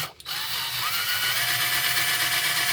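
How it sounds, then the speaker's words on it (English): A power drill whirs steadily as it takes apart a McLaren Speedtail model car in Gulf racing livery, a close, continuous high-pitched motor hum after a brief click at the start. "So let's just go ahead and get this thing drilled apart."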